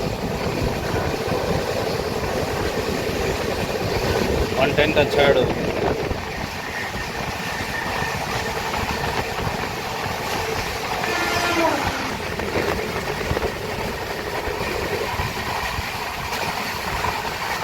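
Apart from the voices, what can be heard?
Pinakini Express train with LHB coaches running at speed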